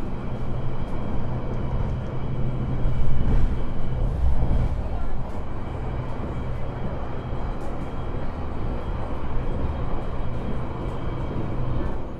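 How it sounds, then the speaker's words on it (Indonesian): Steady rumble of the Sembrani passenger train running along the railway near Brumbung station in Indonesia, heard from inside the carriage as a continuous loud drone. "Sekarang ini perjalanan kereta api Sembrani sudah mau melintas di stasiun Berumbung"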